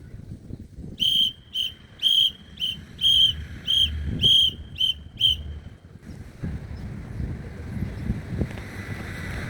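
A shrill whistle blows Morse code in short and longer blasts during a scouting exercise, then stops, with gusty wind and outdoor rumble throughout.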